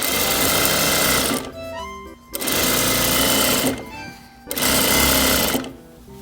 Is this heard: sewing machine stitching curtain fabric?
yes